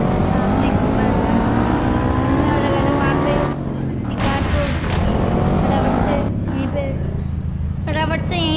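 A KTM Duke motorcycle rides along in the mobile game Indian Bike Driving 3D, its synthetic engine tone rising and falling through revs and shifts, with a couple of sharp breaks and a person talking over it throughout.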